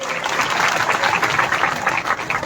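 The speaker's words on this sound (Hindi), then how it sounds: "तालियां कम बजाओ ताली महिलाओं के लिए।" A crowd at a political rally in Rahatgarh, Sagar, claps loudly and continuously, dense applause filling the space without speech.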